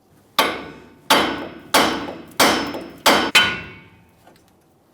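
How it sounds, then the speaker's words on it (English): Six sharp, loud hammer blows ring out against the steel steering knuckle of a 1999-2006 Chevrolet Silverado front suspension, spaced roughly every half second, each followed by a short metallic decay, striking to free the ball joint. "we're going to continue tapping, but this time it's going to be lower on the knuckle."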